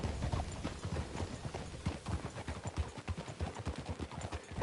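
Horse hooves clip-clop in a steady, rhythmic walking beat on hard ground, fairly close and even throughout, with no talk over them.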